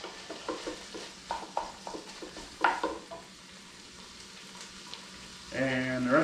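Lasagna soup stirred in a pot, a spoon scraping and knocking against the sides in a run of short sizzling strokes, then a pause before a brief higher scraping at the end, no voices.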